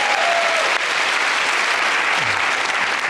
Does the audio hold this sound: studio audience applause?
yes